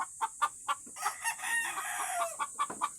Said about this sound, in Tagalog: Ang aming manok, nangingitlog.